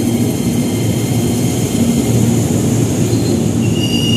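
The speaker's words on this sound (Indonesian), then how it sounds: "Oke, di jalur 3 ada kereta api Jayakarta." A passenger train, the Jayakarta bound from Pasar Senen to Surabaya, rumbles steadily through a large station, loud and close, with metallic wheel squeals and rail noise throughout.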